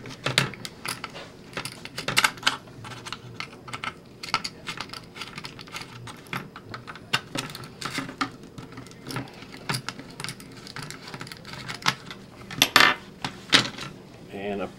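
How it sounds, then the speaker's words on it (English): Small metal clicks and scrapes of a screwdriver working screws loose on a Viper Defender R/C car during disassembly, a busy run of irregular close taps and rattles with no talking. "just a little bit of screwdriver action."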